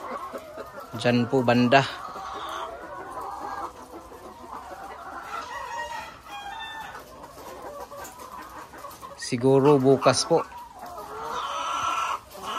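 Layer hens cluck and squawk inside a poultry layer building, with a few louder sharp calls standing out over a constant busy flock murmur, while someone talks nearby.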